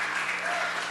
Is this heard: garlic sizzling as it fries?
no